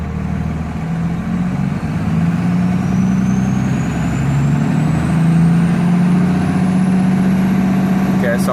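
A diesel truck engine with an HE351VE variable-geometry turbo, run through a Lil' Blackbox controller, is held under throttle as the turbo spools, a loud steady drone with a slowly rising high whine building over several seconds.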